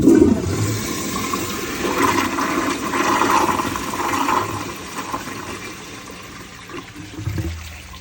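A 1978 American Standard Glenco toilet flushing a washcloth: a steady, close rush of swirling water that gradually eases into the gurgle of the tank refilling, with no voices.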